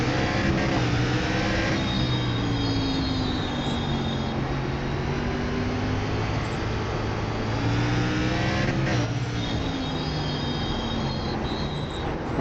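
SRX race cars in iRacing accelerate from the green flag start at Southern National, a loud, steady engine roar with rising and falling revs as gears shift, continuous throughout.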